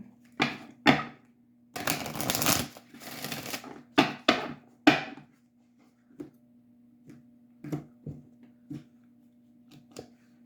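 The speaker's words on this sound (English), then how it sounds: "One more shuffle." Tarot cards are shuffled in quick papery riffles, followed by scattered soft taps and flicks of cards being laid down in a quiet room.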